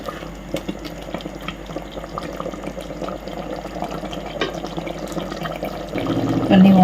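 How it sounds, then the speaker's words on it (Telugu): Water is poured into chicken curry cooking in a pressure cooker, a gentle liquid trickle over a low kitchen background, swelling into a louder, fuller splashing pour toward the end. "కొన్ని వాటర్ వేసుకుందాం."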